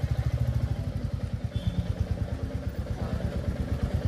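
A motorcycle engine idles in a parking garage, a steady, close throbbing pulse with an even rhythm that echoes slightly in the enclosed space throughout.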